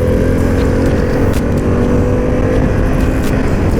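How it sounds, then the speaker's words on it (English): A Harley-Davidson Pan America adventure motorcycle engine-braking into corners on a test ride, a loud, steady engine drone with wind rush, close up and unbroken for a few seconds. "Little engine braking coming in here to the corners."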